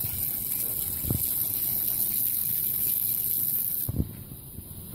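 Steady low-pressure spray of detergent onto a mold-stained shingle roof, a continuous hiss and rush of liquid throughout with a couple of brief soft thumps, fairly close and alone.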